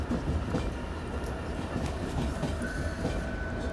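A passenger train runs on rails with a continuous, fairly loud rumble and a faint clickety-clack of wheels over the track joints, steady throughout with no talking.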